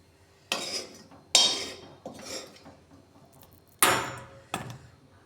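A spoon knocks and scrapes against a pan while stuffing masala for stuffed bitter gourds is moved into another vessel, making four sharp metallic clanks with ringing tails and softer scraping between them.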